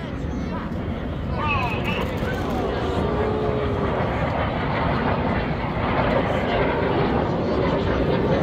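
Two display jets of a synchro pair pass at an air show, creating a loud, continuous roar that swells as they converge and fill the sky, with a commentator talking over the noise throughout.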